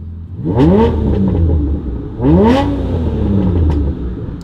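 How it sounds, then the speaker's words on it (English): An Aston Martin Vanquish engine with tubular, tuned equal-length exhaust manifolds revs hard twice, each rise climbing in pitch then settling back to a throaty idle, loud and close. "this Vanquish sounds fruitier than most because it's had our tubular, tuned equal length exhaust manifolds"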